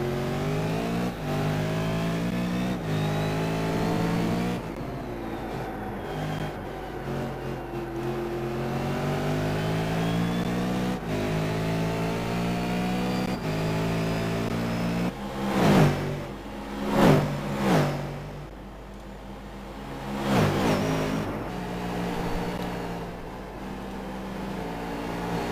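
Sustained high-revving V8 Supercar engines racing at Phillip Island, loud and continuous, with pitch sweeping up through the gears and several cars bunched close together. Sharp surges mark the cars passing near.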